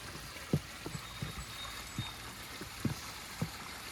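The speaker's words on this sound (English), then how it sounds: "That's a lot of water moving through there." Rushing water pours through a ravine after nine inches of heavy rain, a faint, steady roar with soft, irregular low thumps, heard at a distance with no talk.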